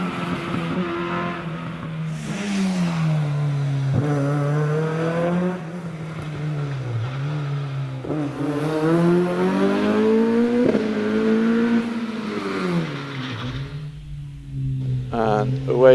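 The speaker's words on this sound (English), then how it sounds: "Around Pardon goes Roger Taylor in the Ford Escort." A Ford Escort rally car climbs a hillclimb course at night, its engine loud and close, revving hard through repeated gear changes and rising and falling pitch, with a brief lull before accelerating again.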